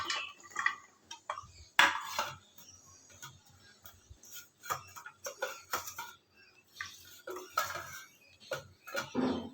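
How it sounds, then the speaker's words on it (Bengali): A whole snake gourd is set into a large bowl in a home kitchen, making quiet, scattered clinks, taps and knocks against the bowl at close range, with no voices. "একটা পাত্র নিয়ে নিয়েছি, বড় একটা পাত্র নিয়েছি, এর মধ্যে পুরো চিচিঙ্গাটা দিয়ে দেবো।"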